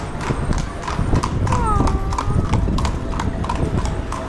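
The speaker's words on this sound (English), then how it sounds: "I love horses." Horses clip-clop along a street in Windsor, England, their hooves striking a steady rhythm, with a brief whinny and light crowd chatter in the background.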